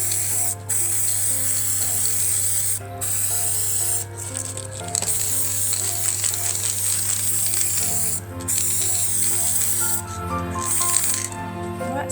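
Gold spray paint hisses from an aerosol can onto dried teasel heads in loud, close bursts separated by brief pauses, with faint rattling and a voice speaking now and then.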